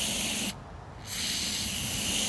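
Short burst of aerosol cleaner sprayed onto a dirty Briggs and Stratton lawn mower carburetor, a brief hiss of about half a second, close and loud against a steady noisy background.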